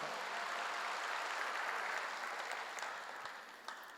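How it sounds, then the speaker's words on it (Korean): Congregation applause at a church sermon, a dense, fairly distant wash of clapping that fades gradually toward the end. "박수 하세요."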